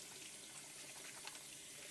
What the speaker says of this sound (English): You can probably hear all the water splashing around too.